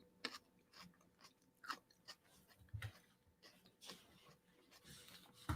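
Chunky veggie salad with seeds and a garlicky dressing being munched up close, with repeated crunchy bites and chewing in an irregular rhythm, mostly without talk.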